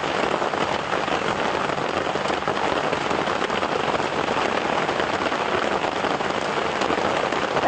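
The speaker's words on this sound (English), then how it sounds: "so once the rain subsides" Steady rain falls throughout during a live safari drive at sunrise, a continuous close hiss of drops on surfaces with no letup and no talk.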